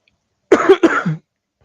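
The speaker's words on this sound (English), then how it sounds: "Cough" Two quick, throaty coughs in close succession, loud and near, with silence before and after.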